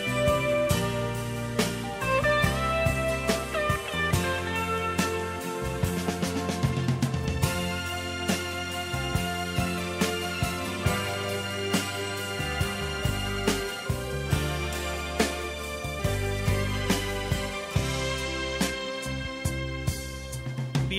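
A song plays on a Mexican FM radio morning show, a full band with steady rhythm and melody running loud and continuous throughout, with no one talking over it.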